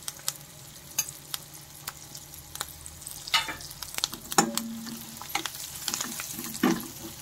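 Spices sizzling in a hot pan with green chilli, turmeric, garam masala and ground peanut paste, intermittent stirring scrapes and crackles over a soft steady fry.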